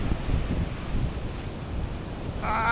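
Sea waves wash against a rock on the West Cork coast of Ireland, a rushing surge mixed with wind buffeting the microphone, with no one talking.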